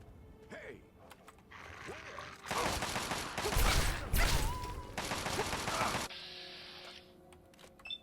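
Enemy gunfire in the Fallout 3 wasteland: a dense burst of rapid shots in the middle, loud and sustained for several seconds, framed by quieter game ambience and effects.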